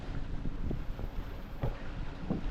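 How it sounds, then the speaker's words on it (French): Strong wind of around 17 to 20 knots buffets a sailboat at sea off Natal, Brazil, a steady low rumbling roar with occasional gusty thumps against the microphone, no voices. "le vent se renforce"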